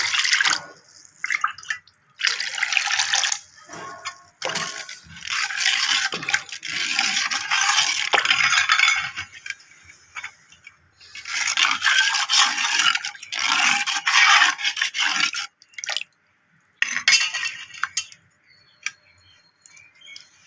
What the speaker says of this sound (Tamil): தண்ணி நல்ல ஒரு ரெண்டு டம்ளர் தண்ணி ஊற்றி